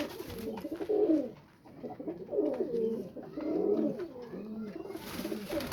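A pair of Sialkoti pigeons coo close by in soft, rolling phrases that repeat roughly every second or two, with no talk over them.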